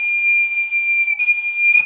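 A flute head joint blown on its own gives a shrill, steady whistle, held for about a second, breaking briefly, then sounding again before cutting off.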